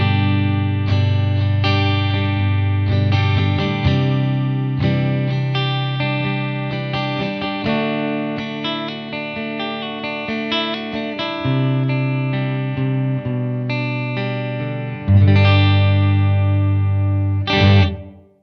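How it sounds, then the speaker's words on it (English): An electric guitar played through a Blackstar AMPED 1 on a clean, high-headroom 6L6-style setting with scooped mids and reverb, ringing chords and picked notes sustaining and decaying, with a strong low chord swelling near the end and no talking. "So I'm going to do a 6L6 style setting, slightly scoop those mids, nice and clean, high headroom sound."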